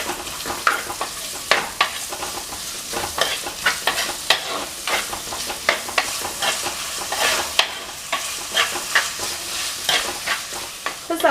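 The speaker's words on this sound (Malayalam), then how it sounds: "2 സവാള നീളത്തിൽ അരിഞ്ഞത്, ഇനി ഇത് നന്നായിട്ടൊന്ന് വഴറ്റിയെടുക്കാം" Two long-sliced onions sauté with salt in a pan for a Kerala duck pepper roast, giving a steady close sizzle broken by frequent sharp scrapes and clicks of stirring throughout.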